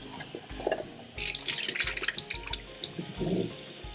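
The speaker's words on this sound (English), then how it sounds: "I'm just gonna run some cool water to kind of stop the cooking process." Cool tap water runs from a kitchen faucet over freshly boiled eggs in a sink, a close splashing stream that surges and drops as the flow is moved around.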